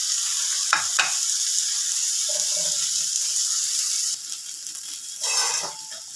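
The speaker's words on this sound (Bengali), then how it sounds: "বেগুনগুলোকে আগে ভেজে তুলে নিই" Eggplant slices frying in oil in a pan, a loud, dense, continuous sizzle with a few brief clinks and stirring scrapes, close up and without talk.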